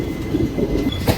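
Meenakshi Express train standing at a station on the Tirupati to Rameshwaram route, giving a short burst of low rumbling carriage and rail noise with faint metallic creaks, close by, with no voices.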